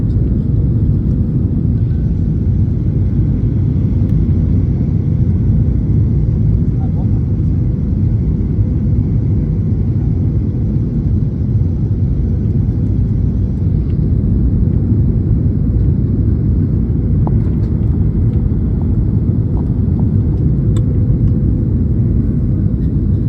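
Airliner cabin during the landing approach into Cartagena, a steady loud low engine and airflow rumble filling the whole stretch with no break, a few faint clicks near the end.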